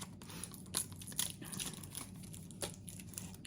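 Tape being peeled from the back of a card to free a pretty hair clip, a close, quiet run of crinkling and tearing crackles with a few sharper pulls standing out.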